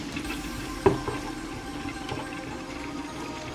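Tomato paste for jollof rice frying in a pot while being stirred makes a faint, soft sizzle with one sharp clack of a utensil against the pot early on, followed by light scraping.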